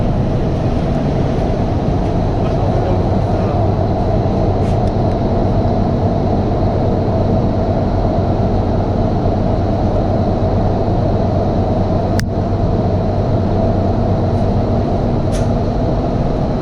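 A continuous loud rumble and rushing noise fill a moving underground Doha Metro train car, steady throughout with occasional sharp squeaks and clicks.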